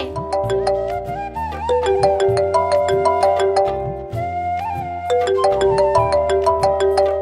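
An incoming-call ringtone plays a bright looping electronic melody with a steady bass beat, loud and continuous, in a home setting; no one speaks over it.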